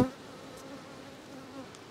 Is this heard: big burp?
no